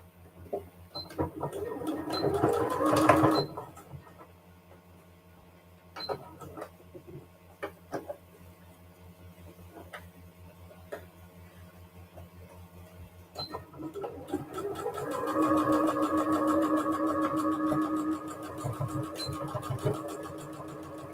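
A sewing machine stitches a fat quarter of fabric into a small pillow, in short mechanical runs at the start and a longer steady whir near the end, with quiet handling noises and pauses between.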